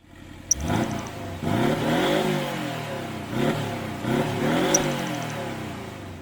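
A stock Porsche 718 Boxster engine revs hard several times, rising and falling in pitch, loud and close with a throaty growl.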